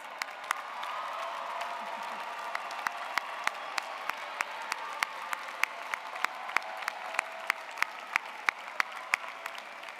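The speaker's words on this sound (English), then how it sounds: "One more round of applause." Sustained audience applause at a spring university commencement ceremony for architecture, design and arts graduates, a dense crowd wash of clapping with individual claps cracking out close by, steady for the full stretch.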